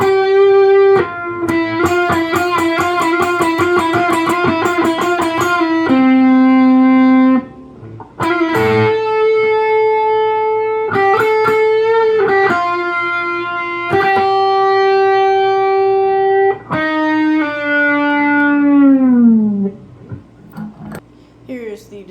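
Electric guitar played through a ProCo RAT2 distortion pedal set low at 9 o'clock with the filter near 1:30: sustained, mildly gritty chords and single notes ringing out, a final note bending downward as it fades.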